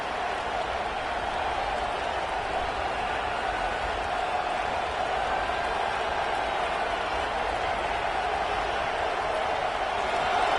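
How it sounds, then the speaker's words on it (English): Stadium crowd in the Madden football video game on PS5, a steady loud roar that holds evenly throughout with no breaks, swelling slightly near the end. "This crowd, full throat, splitting the eardrums"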